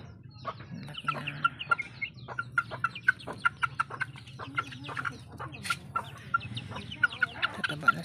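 Two-month-old Sweater Lemon gamefowl chicks cluck and chirp nearby in a busy, irregular stream of short calls, fairly soft and close.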